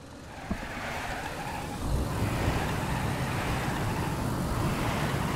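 A car in the video game DayZ drives steadily, its engine a continuous broadband rumble with a bump near two seconds as it keeps rolling, loud and close with no talk over it.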